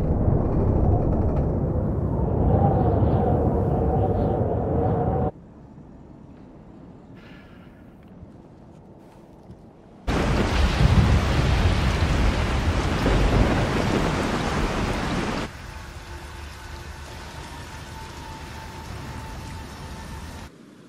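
Heavy rain pours with rolling thunder at the church in the Resident Evil 4 video game, the downpour cutting in and out between sections, loud and dense with deep rumbles underneath.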